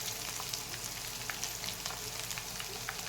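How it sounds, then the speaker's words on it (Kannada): Green chillies frying in oil with ginger and garlic for lemon rice, a steady close sizzle with faint crackles running throughout, no talking. "ಇದು ಸ್ವಲ್ಪ ಹೊತ್ತು ಫ್ರೈ ಮಾಡಿ, ಸ್ವಲ್ಪ ಜಾಸ್ತಿ ಹೊತ್ತು ಬೇಡ, ಸ್ವಲ್ಪ ಫ್ರೈ ಮಾಡ್ಕೊಳ್ಳಿ"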